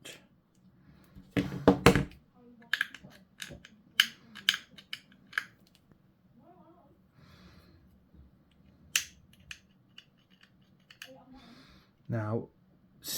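Clippers snip plastic miniature model parts for a Skaven Warlock Bombardier kit, giving a few sharp, close clicks and cuts spaced across a quiet room, with brief talk in between.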